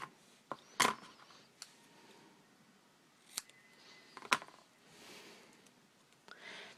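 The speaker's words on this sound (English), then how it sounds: "I'm actually going to trim this down just a wee little bit" Scissors trim a paper banner for a handmade Thanksgiving pumpkin card, giving a few quiet, sharp snips spaced irregularly against a hushed room with no talking.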